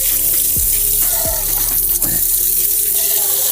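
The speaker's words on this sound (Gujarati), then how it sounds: "સૌથી પહેલાં આપણે નળ ચાલુ કરી અને પાણી પીવું પડશે" Water runs steadily from a tap, a continuous broadband rush filling the space at close range, with brief clatters and a few tonal squeaks mixed in; no talk is heard.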